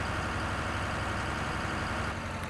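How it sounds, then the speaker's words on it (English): A tractor engine idles in Farming Simulator 2013, a steady, close, low mechanical drone that holds an even level throughout with no speech. "We will need this tractor for the trailer."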